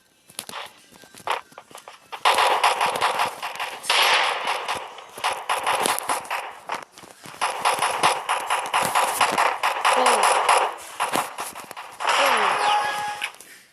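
Desert Eagle pistol gunshots in Counter-Strike, a gold-skinned Desert Eagle, firing in dense repeated bursts of sharp reports mixed with clanks and footsteps, loud and near across most of the stretch.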